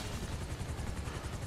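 Rapid thudding rotor chop of a helicopter in the video game GTA, steady and loud throughout, a dense low pulsing drone with broadband wash and no speech.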